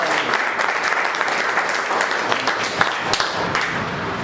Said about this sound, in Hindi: एक बारी तालियां हो जाए जबरदस्त